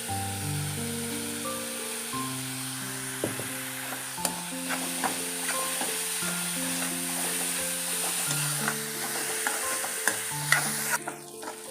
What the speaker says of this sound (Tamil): இப்போ நல்லா வதக்கிட்டு பாருங்க இவ்வளோ வதகினா போதும்